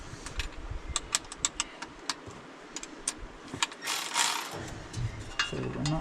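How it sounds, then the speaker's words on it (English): An engine fan is worked loose on a 1966 Ford F-250 4x4, with a series of sharp ratcheting clicks and metallic tool taps, followed by a brief scraping rustle near the end. "Alrighty, we're gonna get this engine fan off."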